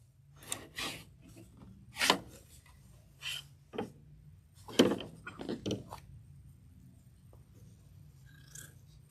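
Quilting fabric being trimmed produces a handful of short, scratchy cutting and rubbing bursts at an uneven pace, close up with quiet gaps between.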